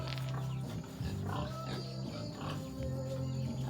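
Pigs grunt and squeal continuously at close range on a farm, a busy overlapping chorus of oinks with no talking.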